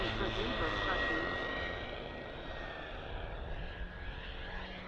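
Model jet turbine engines idle at a model airshow, giving a steady, loud rushing whine with a faint high tone drifting over it, and a voice talking underneath.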